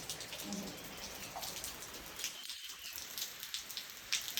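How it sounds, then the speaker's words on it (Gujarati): Steady rain patters and crackles outdoors, with scattered droplet hits over a constant wash of noise and no voices. "જોવો કેવો વરસાદ આવ્યો"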